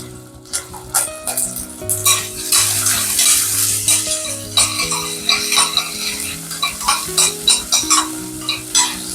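Crushed ginger and garlic frying in a pan, with a steady sizzle under repeated scraping and stirring knocks of a utensil against the metal. Soft background music plays throughout.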